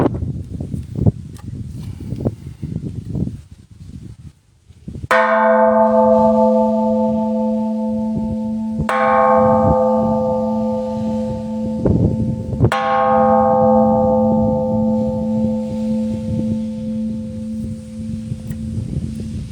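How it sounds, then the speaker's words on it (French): A large temple bell in Thailand struck three times at even intervals, each loud, close, ringing strike decaying slowly into a sustained hum, with faint footsteps and rustling before the first strike. "Notre fameuse cloche, allez. Ça fait bientôt 3 ans que j'ai pas sonné."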